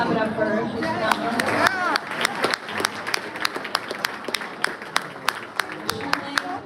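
Audience applause at a school sports awards dinner, starting with chatter and cheering under dense clapping, then thinning to a few loud, evenly spaced claps close by.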